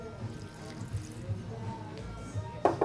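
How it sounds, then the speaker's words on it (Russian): Water trickles and splashes as it is poured over crushed berries, a faint, brief pour with a louder splash at the end. "Также добавляем немного воды"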